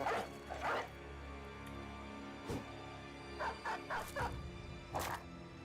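A dog in the video game Battle Brothers gives a handful of short, soft barks and yips in quick clusters at moderate distance, over a quiet steady background.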